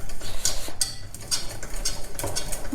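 Metal whisk beating a malva pudding milk tart mixture hard in a pot, giving rapid, continuous clinking and scraping strokes close by, steady and busy throughout with no talking.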